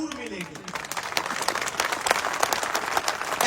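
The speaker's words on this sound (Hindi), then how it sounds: "मैं चाहता हूं झुंझुनू के नाम की जोरदार तालियां होनी चाहिए एक बार" Audience applause at a political speech in Jhunjhunu, Rajasthan, a dense, sustained crowd clapping that swells and stays loud throughout.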